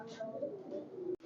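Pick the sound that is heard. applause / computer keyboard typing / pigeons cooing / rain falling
pigeons cooing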